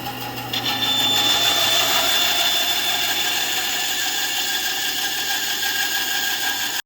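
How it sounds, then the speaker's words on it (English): A bandsaw cuts oak for a cutting board, giving a loud, steady whining roar that holds for about seven seconds after a brief rise at the start. "we'll take it to the bandsaw and cut this initial shape out"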